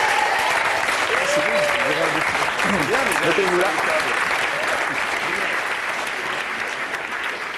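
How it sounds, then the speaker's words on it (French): A studio audience on a French TV talk show applauds guests Omar and Fred, loud and continuous throughout, while a voice briefly speaks over the clapping near the start. "Applaudissements"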